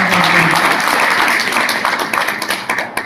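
Enthusiastic applause from an indoor audience at a motivational seminar honouring achievers, dense sustained clapping that stays loud and then thins slightly toward the end.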